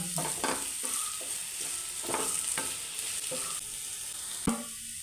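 Crushed spices and green chillies fry in a pan with a constant bright sizzle, broken by several sharp scrapes and clacks of stirring, close and unaccompanied by talk.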